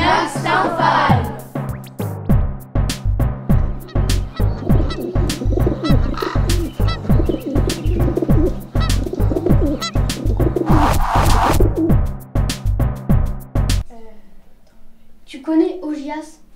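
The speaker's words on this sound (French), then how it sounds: "Les oiseaux y sont insupportables. Ils sont des centaines et poussent des cris épouvantables." Hundreds of birds crying at Lake Stymphalos, a loud, dense, pulsing chorus of harsh squawks close by that runs on steadily, then cuts off abruptly, leaving a brief faint call at the end.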